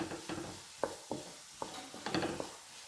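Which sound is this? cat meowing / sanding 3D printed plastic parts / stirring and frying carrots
stirring and frying carrots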